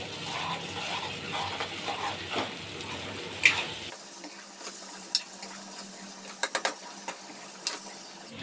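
Ground masala paste frying in oil in a pan, with tomatoes, for a mixed vegetable bhaji: a soft, steady sizzle that turns quieter partway through, with a few clicks of stirring.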